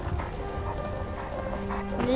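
Horse hooves clip-clopping in Skyrim on PS3, a soft steady trot of hoof beats in the game, heard under someone talking.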